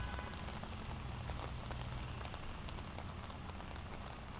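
Steady rain falls on a golf course in Granada during a high school boys' varsity round, giving a dense, even hiss with faint drop patter throughout and no voices.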